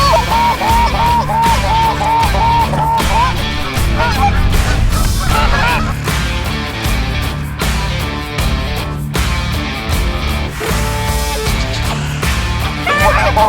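A flock of geese honking loudly and continuously during a goose hunt in Pennsylvania, many overlapping calls close by with little else heard.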